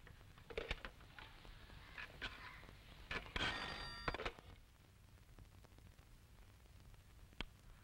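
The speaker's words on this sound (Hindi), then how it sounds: "आप कमिश्नर साहब को फोन लगाएंगे?" An old-style telephone rings in a burst of repeated electronic trills near mid-clip, alongside scattered clicks and knocks, as a call is placed to the police commissioner in a 1991 Hindi film scene.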